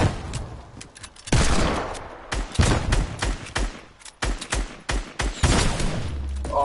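Gunfire in Fortnite comes in sharp, loud bursts and single cracks, spaced irregularly with brief pauses between the volleys, and some quieter game sounds sit underneath.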